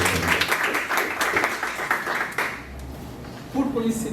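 Audience applause at a coffee geographical-indication panel in Espírito Santo, a dense clapping wash filling the first two and a half seconds before tapering off, with a brief voice or ping near the end.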